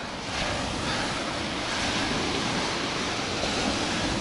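Waves breaking on the beach along the Gurzuf embankment in Crimea, a continuous loud wash of surf with wind noise and no voices.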